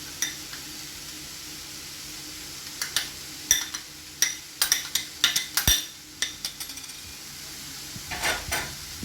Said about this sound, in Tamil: இப்போ இந்த வெஜிடபிள் எல்லாம் கொஞ்சம் வதங்கிருச்சு